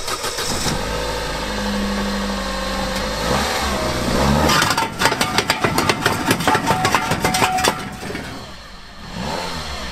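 A car fitted with square wheels starts up and idles, then pulls off with a loud, rhythmic thumping engine pulse that rises and fades, heard nearby with no talking.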